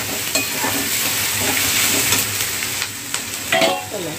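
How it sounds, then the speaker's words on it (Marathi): Onions frying in hot oil in a pan for a chole chana curry, giving a loud, steady close sizzle with occasional stirring scrapes and clinks on top, no voices. "कांदा आपण चांगला असा भाजी म्हणजे तेलामध्ये चांगला भाजूया"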